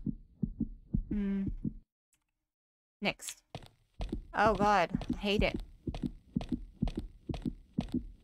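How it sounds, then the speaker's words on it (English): Slow, muffled heartbeat thumps pulse steadily through a scary video game, loud and close, while a player talks and reacts in between the beats. "there's a heartbeat."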